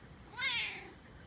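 A single kitten meow, short and rising then falling, fairly close and clear against quiet room background.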